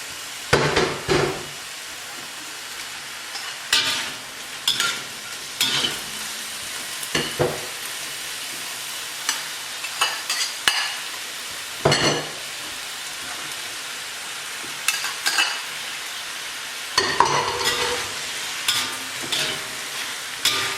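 Chicken and vegetables stir-fry in a pan with a continuous soft sizzle, broken by repeated bursts of scraping and stirring at irregular intervals, close by and with no talk.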